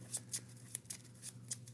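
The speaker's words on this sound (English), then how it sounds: "I'm gonna take those, I'm gonna shuffle them up" A stack of Marvel Champions cards being shuffled by hand, with quiet, crisp riffling bursts repeating every few tenths of a second, close and soft, with no talking.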